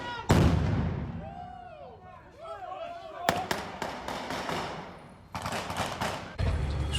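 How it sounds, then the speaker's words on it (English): Distant artillery echoing across a Ukrainian training ground during British urban combat instruction, a deep thump followed by a string of sharp cracks and rolling booms, moderately loud and layered over outdoor ambience. "the sound of artillery is heard here too"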